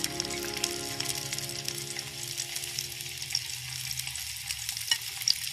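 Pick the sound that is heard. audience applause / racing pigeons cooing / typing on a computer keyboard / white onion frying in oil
white onion frying in oil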